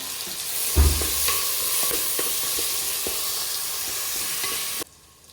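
Garlic, tomato and turmeric sauté in a pan for a Madurai-style ayirai fish curry, giving a steady close sizzle with occasional stirring scrapes and knocks before it stops abruptly.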